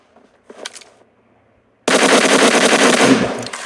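A couple of faint shots open, then a sustained burst of rapid, continuous automatic gunfire rattles loudly in the mobile battle-royale game PUBG Mobile.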